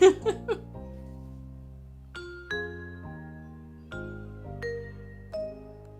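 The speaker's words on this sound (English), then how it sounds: "I think my doorbell just rang." A doorbell chimes several times in slow succession, each bright ding ringing out and overlapping the next, after a brief moment of laughter at the start.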